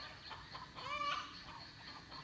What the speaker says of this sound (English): when the hens are laying eggs, they don't do it quietly